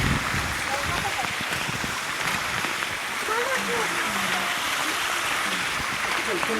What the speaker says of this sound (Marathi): पायऱ्यांवरती पाणी